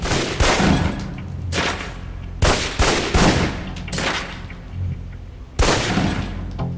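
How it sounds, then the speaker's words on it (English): Pistol shots ring out at a target on a firing range in the video game Alpha Protocol, sharp loud cracks coming in irregular bursts over a steady low rumble of background sound. "Equip the pistol, then aim down range and take some shots at the target."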